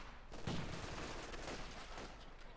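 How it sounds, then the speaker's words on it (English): MG42 machine gun fire in the strategy game Company of Heroes 2 during a battle against an infantry assault, a dense, continuous rattle of rapid shots heard at moderate distance amid broad battle noise. "MG42 number 2 there for Fortune to deal with the infantry assault from Artem."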